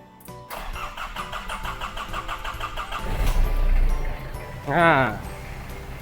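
A Nissan Frontier pickup's TD27 diesel engine cranks and fires up from cold, the starter whirring briefly before the motor catches with a loud rumbling burst and a quick rev, then settles into a steady idle.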